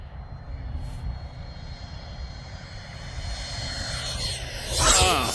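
A Freewing F-22 RC jet plane, an 8S electric ducted-fan model, flying overhead with a steady whooshing drone that swells louder near the end as it passes closer.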